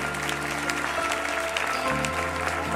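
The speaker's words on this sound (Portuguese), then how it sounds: "Dá uma salva de palmas para esse povo aí." A church congregation in Curitiba claps together, a brief burst of broadband applause over sustained tonal music that shifts pitch partway through.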